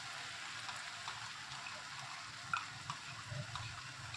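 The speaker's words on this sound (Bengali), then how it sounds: "এটাকে দিয়ে দিয়ে এইভাবে কিছু সময় আমি নেড়ে নেব।" Moringa leaves being stirred in a pan over a lowered gas flame, a faint soft sizzle with light scrapes and a couple of small clicks, quiet and close.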